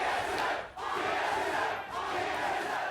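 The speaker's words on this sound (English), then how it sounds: "Pretty evened out crowd." A large arena crowd at a League of Legends esports match, NA LCS Summer 2016, Immortals vs Team SoloMid, roars and cheers in a loud, continuous wash that dips briefly twice.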